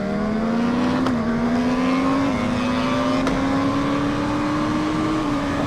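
A BMW HP4 Race motorcycle launches hard in first gear, its engine loud and close, the pitch climbing steadily with brief dips as it pulls away, with no talk.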